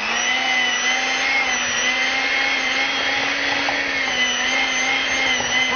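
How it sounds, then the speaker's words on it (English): A small electric hand mixer whips sugar and butter, giving a loud, steady, continuous motor whine that holds one pitch throughout with no pauses or voices. "but I like to use a little hand mixer"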